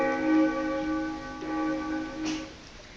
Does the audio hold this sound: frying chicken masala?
no